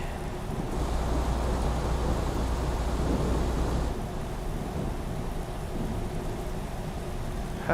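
Rain pours steadily on a truck in American Truck Simulator, with a deep thunder rumble rolling beneath it for the first few seconds before easing back to constant rainfall.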